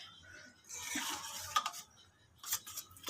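Egg being beaten together with instant noodles in a bowl, quick clinking and scraping strokes in short uneven bursts, close and fairly soft.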